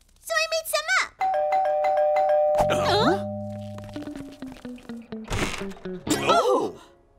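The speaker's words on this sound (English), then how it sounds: "Oh, someone's at the door. The doorbell." A cartoon doorbell rings loudly with sustained two-tone chimes, followed by a low thunk, set between cartoon voices talking before and after.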